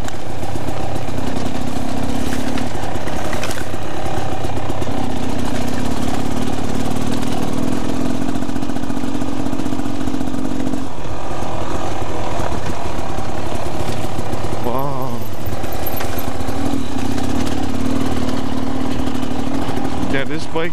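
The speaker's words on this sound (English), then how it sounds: "Yeah, this bike is really a joy to ride." Dirt bike engine running steadily on a muddy, slippery Hawaii trail, a loud continuous close drone with slight throttle changes, with a rider's voice heard over it.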